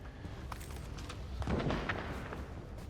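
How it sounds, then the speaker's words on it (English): A video-game explosion bursts at mid distance, a single broad boom swelling around the middle of the short stretch amid a low rumbling game soundscape, with no talk over it. "Oh, that explosion"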